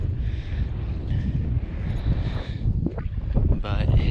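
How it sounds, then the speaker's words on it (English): Steady wind buffeting a microphone outdoors in the desert dunes of White Sands National Park, New Mexico, a constant low roar running through the whole stretch, with brief voice-like sounds near the end. "But sorry if it's really windy, everyone."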